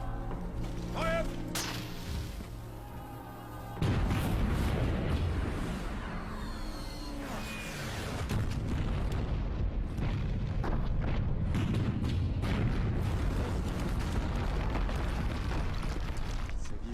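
Artillery bombardment of woods in a war film, a dense roar of blasts and rumbling impacts that swells after a few seconds and keeps pounding, with shouted voices and effects layered throughout.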